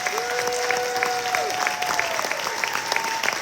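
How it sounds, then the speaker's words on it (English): A crowd at a big band concert applauds trombonist Ben Patterson, with steady clapping and scattered whoops, while a voice briefly rings out above the applause. "Let's give Ben Patterson a big round of applause"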